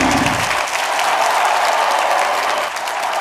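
Steady, dense applause from a studio crowd at a toy-themed talk show, loud and close throughout with no voices over it.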